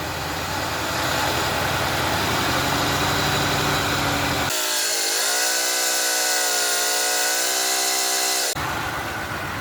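A car engine idles steadily while it drives a slow tire compressor, giving a loud continuous mechanical drone that shifts to a smoother, higher hum partway through, with no speech.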